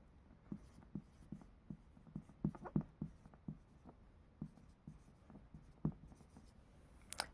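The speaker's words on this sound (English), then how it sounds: "Let me write this first." Pen or chalk writing out a polyhedron formula during a maths lesson, a quiet series of short irregular scratches and taps at close range with no talk.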